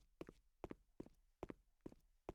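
Character footsteps in the video game Star Wars: The Old Republic, six evenly spaced paired thuds sounding like a clip-clop walking rhythm, close and clear with no talk.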